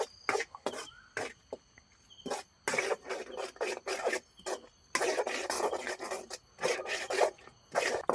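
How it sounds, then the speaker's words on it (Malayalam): Two eggs stirred in a pan for kothu chapathi, heard as a string of short, scraping strokes that come in bursts with brief pauses between them, close by, with no talking. "നമ്മൾ രണ്ട് മുട്ടയും കൂടെ ഇട്ട് ഇനി ഇതൊന്ന് ഇളക്കി കൊടുക്കണം"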